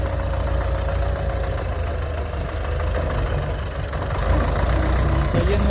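A tractor engine runs steadily at close range throughout, a continuous low rumble with a knocking, idling character during potato planting on a Ukrainian farm, with no talk over it.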